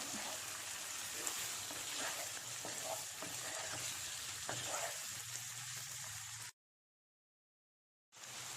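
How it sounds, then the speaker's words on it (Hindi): Half a kilo of chicken roasting over high flame in a pan with browned onions, a loud continuous sizzle with stirring scrapes close by, broken by a short silence before the frying resumes. "हाई फ्लेम पे चिकन को अच्छे से भून लें।"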